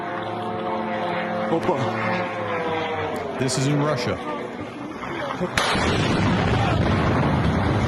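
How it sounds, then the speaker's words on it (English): Incoming drones and missiles over Russia: someone talks over a low rumble that bursts into a loud, steady, broadband roar for the last few seconds. "So just listen to this as these missiles are coming in, or drones are coming in."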